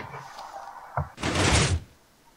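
A door in the Minecraft video game makes a short knock followed by a broader swishing thud, two quick distinct sounds close up with no talk over them.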